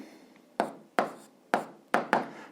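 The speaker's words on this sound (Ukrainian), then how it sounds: "Записуємо відповідь, пишемо відповідь." Handwriting on paper while an answer is written out, heard as five short scratchy pen strokes with quiet gaps between them, close and faint.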